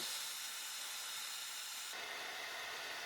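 Soldering iron melting solder on a Stern Deadpool pinball machine circuit board, a steady close hiss that shifts slightly partway through, with no talking.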